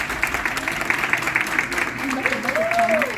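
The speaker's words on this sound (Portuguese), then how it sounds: "Palmas para os nossos expedicionários." An audience applauds expedition members with a steady patter of clapping, moderately loud, while voices talk over it and a brief rising tone is heard near the end.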